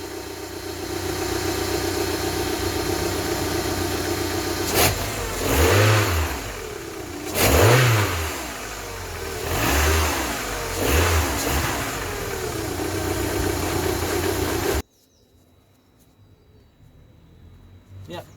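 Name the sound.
car engine revving after cold start, new coil packs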